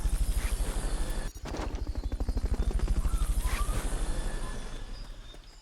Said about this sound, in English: Fulton recovery helicopter is...